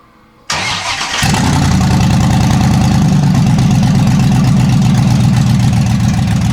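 A Pontiac GTO engine cranks on its newly installed starter, then catches and settles into a loud, steady idle with a low rumbling pulse, close by and with no talking.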